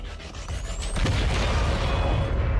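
Explosion in the video game XCOM 2: a loud boom rising after about one second into a sustained rumbling roar with debris-like crackle that fills the rest of the moment.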